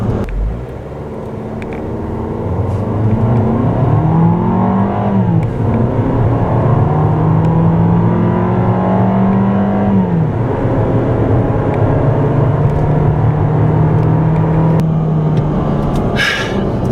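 A turbocharged 2014 Fiat 500L pulls hard under full throttle, its loud engine drone rising in pitch through several gears with brief dips at each shift, close and continuous with no talk.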